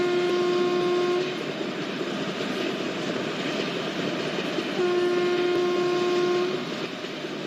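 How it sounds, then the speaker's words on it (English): Train horn sounding at a level crossing in the MSTS/Open Rails simulator, a WAG7 electric locomotive hauling the Antyodaya, with two long steady blasts separated by a few seconds over continuous rolling rail noise. "Let's make a horn because we are crossing unnamed level crossing"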